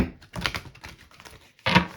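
Quick papery riffling and soft clicking bursts, like a deck of cards being shuffled close by, with a short pause before a final louder riffle.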